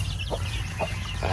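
Hens and roosters in a backyard chicken coop give a few short, soft clucks spaced across a brief moment over a low background hum.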